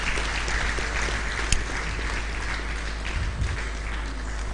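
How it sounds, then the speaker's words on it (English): Audience gives another round of applause for Professor Patrick Utomi at a live event, steady, dense clapping throughout at moderate volume. "Please give him another round of applause."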